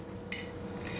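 Dried sweet peppers are stirred into a Dutch oven pot of chili, giving a short metallic scrape and clink of utensil against the pot, close and brief.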